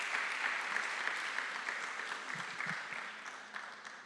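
A church congregation claps together in praise, a broad wash of applause that holds steady and then gradually thins and fades, with a few low murmurs underneath.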